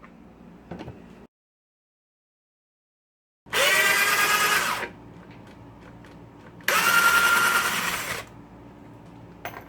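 Harbor Freight Warrior 18V cordless drill backing out 3-inch screws: two loud whirring bursts, each lasting about a second and a half, separated by a quieter pause, with faint clicks and handling noise before and between.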